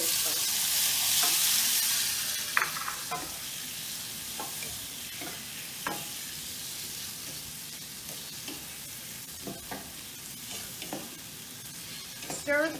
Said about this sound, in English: Stir fry the tomatoes for about 3 minutes.